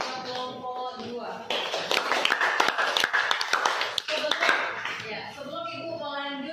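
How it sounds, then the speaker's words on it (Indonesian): Students clapping for a presenting group in a high school chemistry class, a dense burst of applause that swells in the middle and fades, with voices talking over the start and end. "Mari kita beri aplaus buat kelompok 2."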